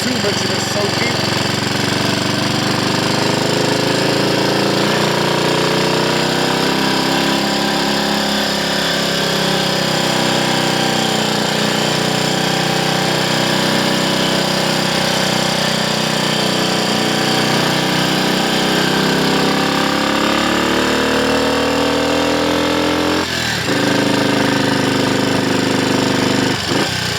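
Engine of a Triumph Scrambles Cub replica motorcycle on a road test after clutch and gearbox work, revving loud and steady as the pitch climbs and drops through gear changes, a continuous near-field single-cylinder drone throughout.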